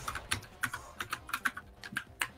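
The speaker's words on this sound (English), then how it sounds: "I just hear Alec mashing his keyboard" A computer keyboard is mashed rapidly during a Fortnite match, producing a quick, irregular burst of sharp clacking keystrokes, close and fairly quiet, with no voices.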